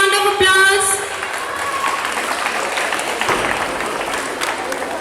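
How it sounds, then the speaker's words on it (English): Children at a school mini marathon for National Sports Day applauding the winners, a dense burst of many small hands clapping steadily, preceded briefly by a tonal chime or whistle and a voice. "Children, give them a big round of applause."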